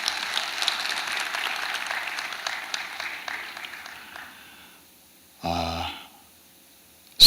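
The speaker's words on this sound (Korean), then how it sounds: "우리 박수 한번 하겠습니다." A church congregation claps together in a sustained, dense round of applause that tapers off and stops, followed by a short burst of sound and then silence.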